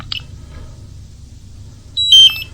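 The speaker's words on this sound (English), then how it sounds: "you'll have a controller that still makes the noises, and you will still have the alarms" A short electronic chirp, a long quiet pause, then a brighter cluster of high-pitched alarm beeps from a nearby DJI Mavic Pro drone remote controller.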